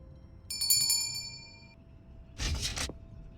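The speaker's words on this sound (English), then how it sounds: "Perhaps some kind of doorbell?" A bright ringing doorbell, pulled by a rope in the video game Lost Chronicles of Zerzura, chimes a few quick times, then a short, heavier clanging burst follows after a pause.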